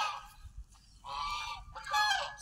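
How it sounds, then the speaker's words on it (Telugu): Ducks at a guest house give several nasal honks up close, coming in short bursts with brief quiet gaps between them. "మంచి బ్యూటిఫుల్ బాతులు కూడా ఉన్నాయి"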